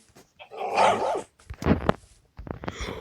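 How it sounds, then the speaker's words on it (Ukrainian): A dog in Minecraft barks a few times nearby, sharp yaps with short gaps between them. "Собака."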